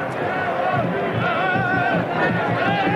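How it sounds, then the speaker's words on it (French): Stadium crowd at a 1996 Cup Winners' Cup football match between Kispest Honvéd and Nîmes applauds a save, a steady broad wash of clapping and murmuring from the stands with no clear single voices. "Lui a valu les applaudissements du public"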